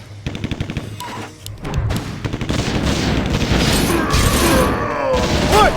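Bomb blasts and rapid gunfire from a gyrocopter in a video game, a dense continuous barrage of booms and shots with game music and voices layered in.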